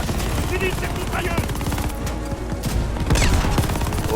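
Rapid machine gun fire rattles in Call of Duty Vanguard, dense bursts of gunshots mixed with battle noise and a heavier blast near the end, with voices talking over the action.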